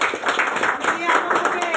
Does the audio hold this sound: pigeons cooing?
no